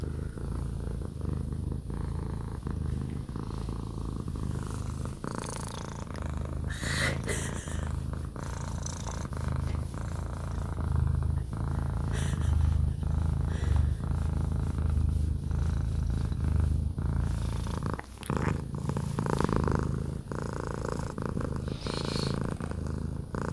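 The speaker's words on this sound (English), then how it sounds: "Yeah, she's a happy cat" A contented cat purrs loudly and close up, a deep continuous rumble that swells and eases with each breath, with a few light rustles over it.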